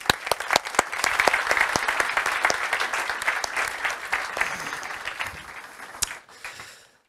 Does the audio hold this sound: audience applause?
yes